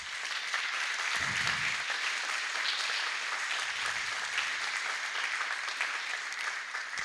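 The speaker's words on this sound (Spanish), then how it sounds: "Dale un aplauso al Señor." Applause from a church congregation during a Sunday sermon: a dense, steady wash of many hands clapping, loud and continuous for the whole stretch without a break.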